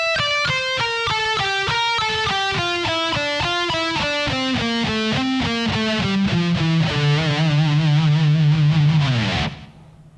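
Distorted electric guitar plays a fast-patterned lead lick at slow tempo with alternate picking, a steady run of descending picked notes ending on a sustained held note before cutting off.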